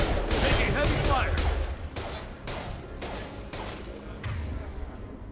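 Heavy gunfire in the sci-fi shooter Mass Effect 2, a dense rattle of shots and crashing impacts that is loud at first and then eases to a steady background volley.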